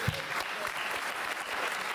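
Audience applause at a PopTech 2014 conference session, a dense, steady wash of many hands clapping at even loudness throughout.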